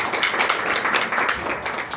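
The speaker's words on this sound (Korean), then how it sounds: "다시 한번 큰 박수 부탁드립니다" Steady audience clapping fills a seminar hall on virtual convergence education, a dense, even patter of many hands lasting the whole short stretch with no voices over it.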